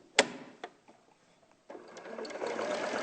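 Sewing machine stitching fabric up to a point, with a few clicks and a pause first, then the needle running in a steady, close whirr for the last second and a half.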